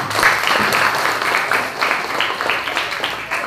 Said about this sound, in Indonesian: Tepuk tangan di sini.